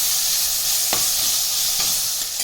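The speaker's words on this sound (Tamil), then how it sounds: "வெங்காயத்தோடு சேர்த்து வதக்கிக்கலாம்" Onions with ginger garlic paste sauté in a pan for tomato rice, a dense, steady sizzle broken by a few quick stirring scrapes, close and with no talking.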